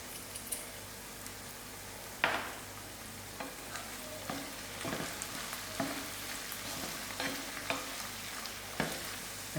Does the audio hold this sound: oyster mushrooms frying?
yes